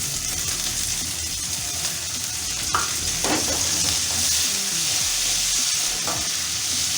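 Garlic and dried chili frying in a pan for kung pao chicken, a steady close sizzle with stirring scrapes running throughout and no talk.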